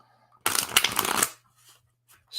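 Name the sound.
shuffling tarot cards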